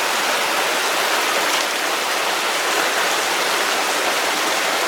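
A creek flows steadily in front of an old gold mine in the Sierras, its broad, continuous rushing water loud and close throughout with no talking.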